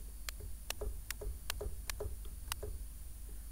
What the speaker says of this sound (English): And you will just hear this tiny click here